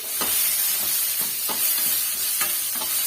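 Small shallots being sautéed in a pan for drumstick-leaf curry, an even hissing sizzle broken by several close spatula scrapes at a loose rhythm, fairly loud with no talk.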